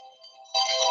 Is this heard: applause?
no